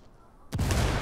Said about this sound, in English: We're just throwing grenades, it's fun.